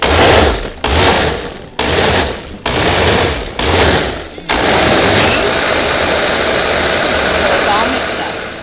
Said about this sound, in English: I'm putting the last of the vegetables in, and I'm going to puree this.